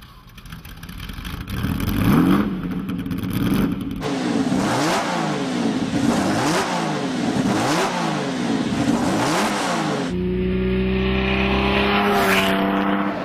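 A Jaguar XJ13 race car's engine revs hard and loud, its pitch climbing and falling through repeated gear changes, then settling into a steady high roar near the end.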